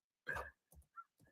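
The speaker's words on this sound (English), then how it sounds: "And you'll have to excuse the dog barking." A dog barks close by in a quiet room, one loud bark followed by three shorter, softer barks spaced apart.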